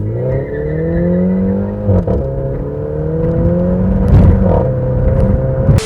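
A Mini John Cooper Works with a 2-litre turbo engine revs hard through rising pitch sweeps with brief dips between gears, loud and close from inside the car, with no speech.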